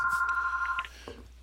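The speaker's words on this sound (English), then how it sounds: "The phone's ringing." A telephone rings in a single steady electronic burst lasting under a second, then the line falls quiet with faint room noise; no one speaks.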